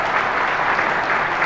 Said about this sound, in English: I'd like to get a round of applause for the audience